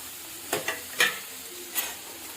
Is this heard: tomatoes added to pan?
yes